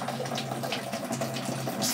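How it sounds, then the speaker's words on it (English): Water drains steadily from a Von semi-automatic washing machine on its drain setting, a continuous close rushing and gurgling flow with a low pump hum underneath, no voices. "You can see the water is draining."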